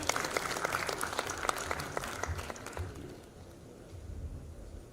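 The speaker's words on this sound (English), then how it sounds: "Let's welcome both of them with a huge round of applause" Audience applause at a maritime symposium on seafarers' recruitment and welfare, a dense sustained clapping from a large crowd that fades out after about three seconds, leaving quiet room tone.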